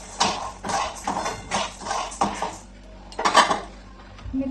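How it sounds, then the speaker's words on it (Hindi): Red chillies roasted in a pan over a low flame are turned with a spatula, making rhythmic, close scraping strokes against the metal, about seven in a row with brief gaps between them. "इसे हमें हल्के हल्के आंच पर भूनते रहना है।"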